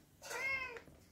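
A single cat meow, close and clear, rising then falling over about half a second in a quiet room.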